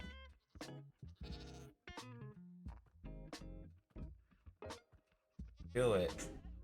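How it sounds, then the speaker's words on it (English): Goats bleating in the Minecraft video game, several short nasal bleats in a row, close and clear, with a person talking in between. "Now let's see if we can find a goat."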